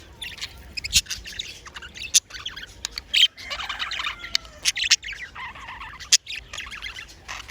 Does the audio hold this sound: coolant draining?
no